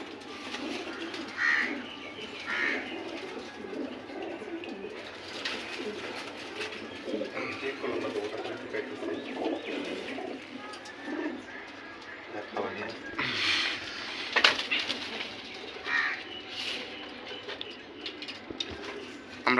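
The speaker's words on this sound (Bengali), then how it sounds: "এই তো কবুতরগুলো রেডি করে নেওয়া হচ্ছে এখন।" Racing pigeons, including a female, coo softly and repeatedly in a loft while they are readied for a race, with people talking over them throughout.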